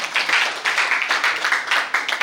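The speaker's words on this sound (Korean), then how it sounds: "여러분 큰 박수 부탁드립니다" Dense, sustained applause from an audience at an anniversary ceremony, steady and lively at close-to-mid range, with no voices on top.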